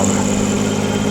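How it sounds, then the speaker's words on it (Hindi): A 125 HP YTO tractor engine runs at a steady idle on a farm, a loud, close, continuous low rumble with even vibration and no talk over it. "125 HP YTO का ट्रैक्टर है जी"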